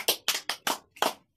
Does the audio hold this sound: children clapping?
yes